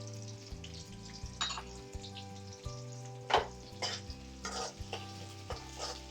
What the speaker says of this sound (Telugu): వీటిని మంచిగా వేయించుకోవాలి